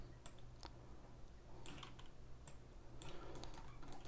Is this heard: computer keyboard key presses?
yes